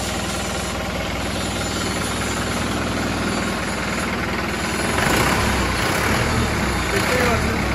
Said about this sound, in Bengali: engine sound